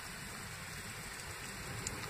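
Steady rain falls outdoors, a constant dense hiss of drops on surfaces that stays even and moderately loud throughout, with no voices.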